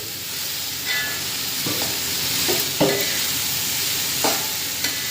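Snake gourd thoran stirred in a hot pan: steady sizzling hiss with a few distinct spatula scrapes and taps spaced through it, close up, no voices.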